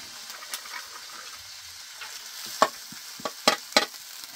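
Khaja mixed with dal being roasted in a pan gives a faint, soft sizzle with scattered scraping stirs and a few sharp clinks of a utensil against the pan, close and quiet.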